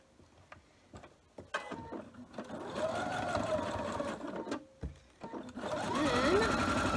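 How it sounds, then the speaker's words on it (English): Sewing machine stitching across the seam intersection of a 60-degree triangle quilt block, a steady close mechanical whir running in bursts with short stops and clicks between runs. "Sew over the intersection."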